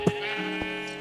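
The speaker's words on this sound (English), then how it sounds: "Not sure what that sheep was doing." A sheep bleats in a blocky Minecraft-style game world, a short loud bleat at the start and a fainter second call shortly after, over a steady background music tone.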